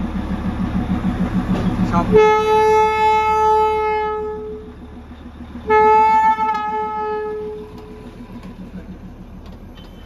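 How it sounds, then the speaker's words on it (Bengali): A Darjeeling toy train at the station, its engine chugging rhythmically underneath two loud, long horn blasts, the first after a couple of seconds and the second shortly after, with the engine continuing quieter afterward. "এই যে চলে আসলো স্বপ্নের ট্রেন, টয় ট্রেন। এই যে হর্ন দিচ্ছে টয় ট্রেন"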